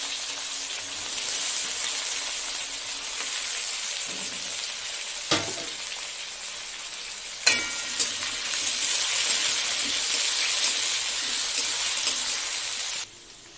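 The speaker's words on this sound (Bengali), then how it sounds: "এই আলুটা ভেজে নেব" Potatoes frying in hot oil in a pan, a steady moderate sizzle like light rain, broken by a few sharp clanks from stirring or adding more, close and without talking.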